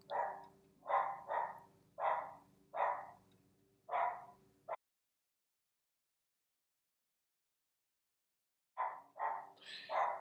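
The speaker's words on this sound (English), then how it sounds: "Do you hear my dog interrupting me?" A dog barks in a home during a makeup session, six sharp nearby barks in a quick run, then a pause of silence before three more rapid barks, with no talking.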